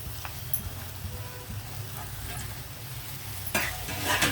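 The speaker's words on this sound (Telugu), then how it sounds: "ఈ టైంలో మనం కట్ చేసి ఉంచుకున్న క్యాబేజీ పచ్చిమిర్చి కరివేపాకు ఇవన్నీ ఒకేసారి వేసేయచ్చు" Chopped cabbage, green chillies and curry leaves tossed into a hot pan, a steady close sizzle throughout with faint stirring scrapes and a louder burst of frying near the end.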